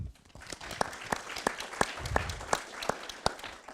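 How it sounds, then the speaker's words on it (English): Scattered clapping from an audience at an awards nominees event, with individual claps sharply distinct in an uneven rhythm and a faint voice underneath. "give her a round of applause"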